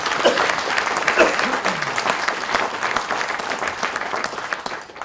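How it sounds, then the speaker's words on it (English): A round of applause from an audience at a university lecture, steady dense clapping filling the room with a few voices briefly audible over it before it thins out. "So let's give it a round of applause."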